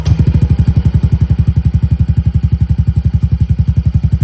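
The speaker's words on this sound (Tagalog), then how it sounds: "paanda rin na natin yung makina." A Yamaha Fazzio scooter engine, fresh from an oil change, fires up and settles into a steady, close, loud idle with a rapid even thumping pulse and light mechanical clatter, with no voices.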